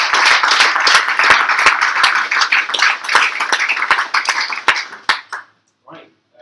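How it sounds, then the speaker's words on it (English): A live audience at a Refresh Teesside meetup in August 2015 claps in dense, sustained applause for about five seconds, then it tapers into a few scattered claps and falls quiet. "we're going to give him a round of applause and say thank you"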